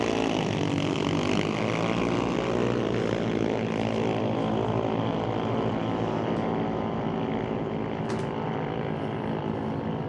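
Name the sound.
drag race cars launching and racing down the strip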